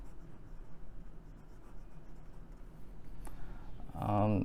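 Pelikan M800 fountain pen scratching across 80 GSM Rhodia paper, a slightly rough, steady nib scrape close up, with a brief louder rustle near the end.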